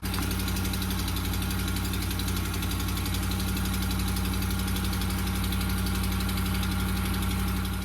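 A steady idling truck engine with a fast, rhythmic ticking from a cracked exhaust manifold running through it, loud and close, without pause.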